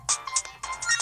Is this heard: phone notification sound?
yes